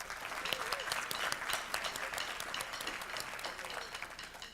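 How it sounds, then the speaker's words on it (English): A school board meeting audience claps for a high school championship team, a sustained round of applause at moderate distance that carries on steadily before tapering off. "Let's give them a round of applause."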